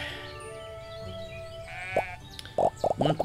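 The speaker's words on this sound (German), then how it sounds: "Den ganzen Tag beschäftigt, Schafe zu fangen." Sheep bleat in the farming game Everdream Valley: a few short, separate bleats come up near the end over a quiet game soundscape that carries a steady held tone. No one speaks.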